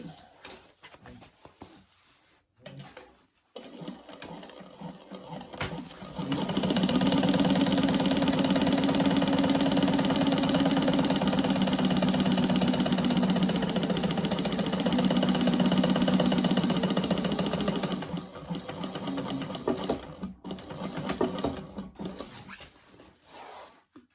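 A sewing machine stitches a laptop bag in one long steady run of mechanical whirring, close and loud, starting after a few quiet seconds and stopping near the end, with light handling noise around it.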